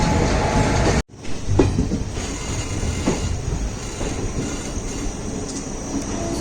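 Passenger train rolling near Karjat Junction as banker locomotives come up to attach, with steady wheel rumble and rail noise, a few louder clanks and squeals over the run, and no talk.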